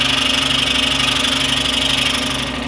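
A scroll saw cuts a dovetail joint in wood, its motor and reciprocating blade giving a loud, steady buzzing drone with a rapid even pulse, close up and uninterrupted by talk.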